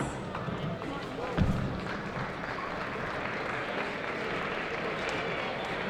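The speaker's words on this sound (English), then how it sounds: "Big applause, please." A crowd applauds at the U18 basketball tournament final ceremony in Munich, a continuous wash of clapping heard from a distance with one brief thump partway through.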